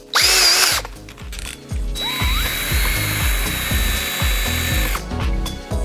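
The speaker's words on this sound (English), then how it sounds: "We like doing it with an Allen key that goes right in the drill" A power drill with an Allen key bit whirs in repeated short bursts with ratcheting clicks, rising and stopping as it drives bolts into threaded inserts fixing steel table legs, with a high whine in between.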